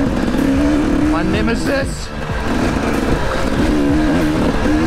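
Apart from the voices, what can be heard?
enduro motorcycle engine during race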